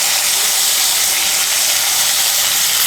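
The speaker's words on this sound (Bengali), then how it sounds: "এই তেলের মধ্যে আলুগুলো ভেজে নেব।" Thinly cut potatoes fry in hot oil with a loud, steady, even sizzle and hiss, up close and continuous with no talking.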